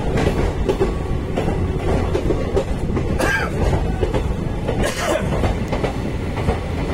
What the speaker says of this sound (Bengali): এবার ট্রেন একটু পরেই ছেড়ে দেবে।